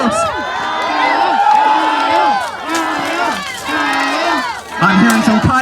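Crowd rhythmically chanting fighters' names at an armored combat bout, loud repeated voiced calls in a steady cadence with cheering around them.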